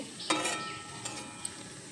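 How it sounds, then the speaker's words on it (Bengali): Papaya pieces stirred with spices in a pan, one sharp scrape of the spatula followed by a quiet sizzle and a couple of faint taps. "এখন একটু নেড়ে চেড়ে নেব পেঁপেগুলো মশলার সঙ্গে খুব ভালোভাবে মিশিয়ে নেব"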